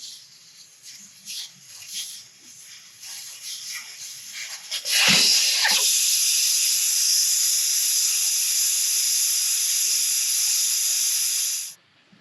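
Air hissing steadily out of a tire once its valve core is pulled, a loud sustained rush that starts abruptly after some scattered handling noises and runs unbroken for several seconds before cutting off.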